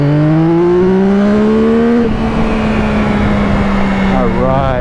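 A 2023 Yamaha XSR 900 motorcycle engine roars loud and close at full throttle, its pitch climbing steadily, dipping briefly at a gear change, then rising again.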